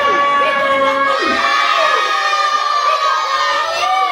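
A crowd of sixth-grade children shouting and cheering together at a Ramadan school event, loud and sustained, with high excited voices blending into a continuous roar.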